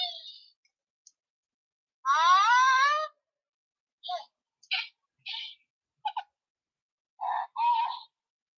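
Baby Yoda toy giving a short series of chirpy, squeaky electronic creature noises, one longer warbling call followed by several brief chirps, close and alone.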